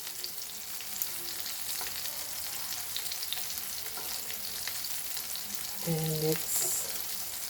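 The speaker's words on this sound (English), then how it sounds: "let this fry" Breadcrumb-coated Goan rock crab claws fry in a pan with a steady, moderate sizzle and crackle. Near the end a brief voice speaks and a short tonal sound is heard over it.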